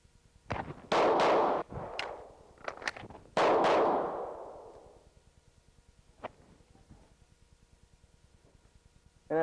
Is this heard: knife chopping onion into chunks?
no